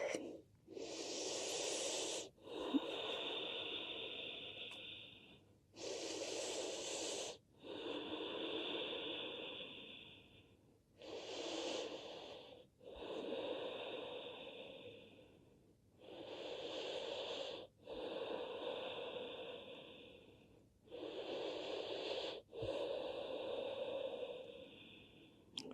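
Slow, deep yoga breathing fills a quiet room, long airy inhales and exhales alternating in an even rhythm of roughly six full breath cycles, close and breathy with no talking.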